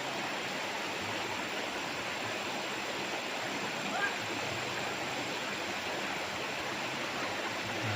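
River flowing beside a farm lot in Liliw, Laguna, a steady broadband rush of moving water heard close and unbroken for the whole span, with no talk over it.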